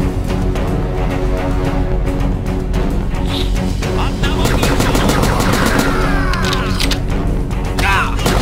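Pistol fire in the video game Manhunter, rapid loud cracking shots in quick succession over dense, busy game noise, with no talking.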